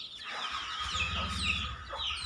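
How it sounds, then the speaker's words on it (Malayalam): Free-range hens with their chicks clucking and cheeping on a farm, a dense close chorus of soft clucks and high peeps running continuously without speech. "അടിപൊളി കോഴിയാണ്, നല്ലൊരു കോഴിയാണ്."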